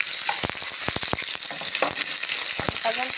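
Burnt garlic frying in a pan, a steady loud sizzle with sharp crackles and pops throughout and occasional stirring scrapes, no voices.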